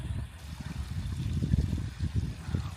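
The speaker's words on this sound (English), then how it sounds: "Little waterfall" A small waterfall trickling near Loch Ness, a steady low burbling wash of water running continuously and fairly close, with no talk over it.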